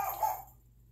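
A single faint, short dog bark in the distance, fading quickly into quiet.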